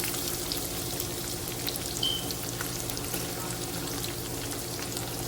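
Grated bottle gourd dropped onto cashews and raisins frying in a pan, giving a steady, even sizzle close by with no talking.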